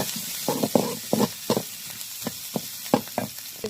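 Chorchori with ground paste and salt sizzles in a pan while being stirred, a steady frying hiss broken by repeated scraping strokes of the spatula, close and alone with no talk.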